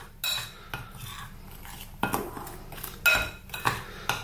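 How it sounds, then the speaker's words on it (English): Garlic powder and five spice being stirred together into a seasoning for whole seabass, with repeated metal spoon clinks and scrapes against a dish, close and irregular. "So let's just tip that in and simply mix this around."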